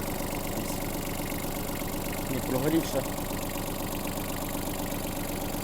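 A Yanmar AF-120 mini tractor's diesel engine idles steadily and evenly nearby with a Japanese battery and exhaust in good shape, while someone talks over the low, constant hum.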